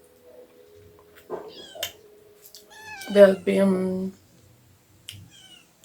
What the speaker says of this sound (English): here's one of the cats that I'm carrying.